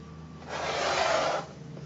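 Rotary cutter trimming a quilting fabric strip to length on a cutting board, one close, smooth rasping stroke lasting about a second.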